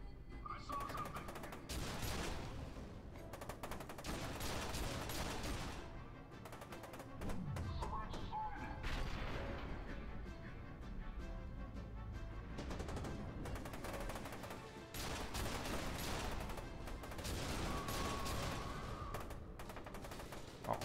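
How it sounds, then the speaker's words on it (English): Sustained bursts of turret gunfire in the shooter F.E.A.R. 2: Project Origin, rapid heavy automatic fire that keeps rattling across the whole stretch with brief lulls, with game sounds and occasional voices mixed underneath. "What kind of turret is this?"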